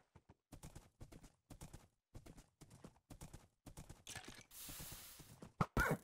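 Horse hooves clip-clop in the Minecraft video game, a quick run of short, crisp, evenly spaced steps, then a brief rushing burst and a couple of louder clunks near the end.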